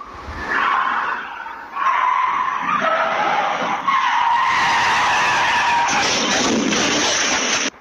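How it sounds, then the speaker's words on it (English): A teenager's car skids and crashes into a house in Sacramento, captured by a Ring doorbell camera: loud, sustained tire squealing and engine noise that swells and continues for several seconds at close range. "that is a teenager slamming his car into that house right there"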